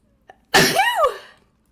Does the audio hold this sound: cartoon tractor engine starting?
no